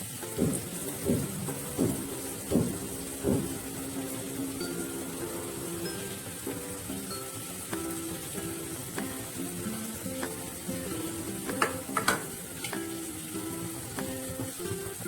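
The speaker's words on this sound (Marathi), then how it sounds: "त्यामध्ये तुम्हाला हा कांदा बारीक चिरलेला आधी टाकून घ्यायचा आहे." Finely chopped onion sizzles in about two tablespoons of hot oil in a pan for a vegetable curry, a steady soft frying crackle with occasional clinks of a utensil against the pan.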